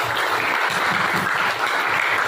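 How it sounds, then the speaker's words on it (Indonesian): A classroom group giving applause for a presenting student group, a dense, continuous patter of many clapping hands, loud and steady throughout with no talk over it. "Kita kasih tepuk tangan untuk kelompok."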